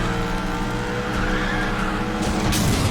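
Porsche Cayenne Turbo SUVs race in Need for Speed: The Run, with a loud sustained engine roar and tire noise that swells into a harsh skid toward the end.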